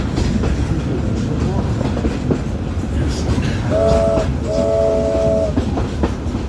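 Train on the Zig Zag Railway rolling along, with a steady rumble and rail clatter throughout and two short horn or whistle blasts near the end, heard close and loud.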